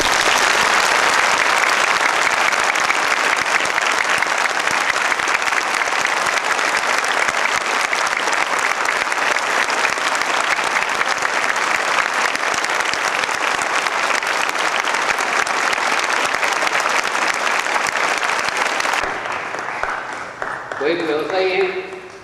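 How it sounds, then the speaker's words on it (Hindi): Sustained, loud audience applause welcoming a person at a spiritual festival gathering, dense and even clapping from a large crowd that carries on for a long stretch before thinning out and fading near the end. "आप अपनी पूर्ण सहमति प्रकट करते हुए तालियों के साथ उस व्यक्ति का स्वागत करिए।"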